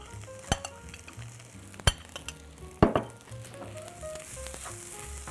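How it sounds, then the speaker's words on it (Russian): Food is stirred in a sizzling pan, with a low steady frying hiss broken by a few sharp clinks and knocks of the utensil against the pan. "Хорошенько перемешиваем."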